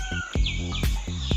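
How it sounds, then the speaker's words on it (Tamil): A peacock near a church in Tirupattur gives a couple of sharp, nasal, harmonic calls, each brief and fairly close, repeated in quick succession. "மயில் கத்துற சவுண்டெல்லாம் கேட்குது பாருங்க"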